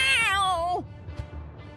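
Cats in The Cheeky Crow video game give a drawn-out, falling meow followed by a softer, shorter mew over a low background hum.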